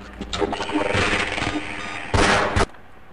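Shotgun blasts from the video game Half-Life: a dense burst of loud firing with a heavy, sharp final blast near the end, no speech.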